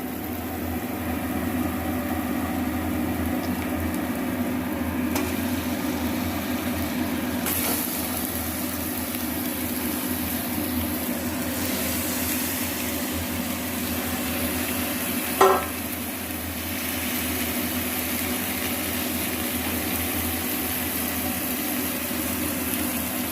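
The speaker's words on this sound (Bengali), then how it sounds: "ভালো করে তেল বেরিয়ে গেছে মশলাটা, এখন আমি মাংসটা দিয়ে দেবো" Chicken pieces hitting well-fried masala in a hot pan and frying, a steady close sizzle running unbroken for the whole stretch, with one sharp utensil knock partway through.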